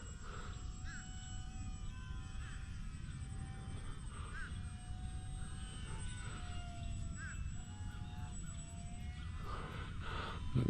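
A UMX Cirrus SR22T RC model plane flies with a thin, steady high-pitched whine that rises and falls faintly over constant outdoor rumble, with brief chirping tones at intervals.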